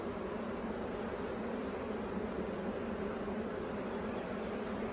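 Honey bees from a healthy summer hive buzz in a dense, continuous drone, steady and fairly close, with no voices.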